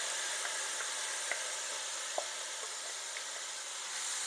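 Callaloo sizzles quietly in a hot pot, a soft steady hiss broken by a few faint pops and stirring clicks.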